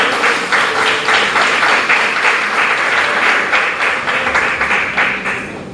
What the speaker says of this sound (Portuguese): Você pode se sentar, aplaudindo ao Senhor?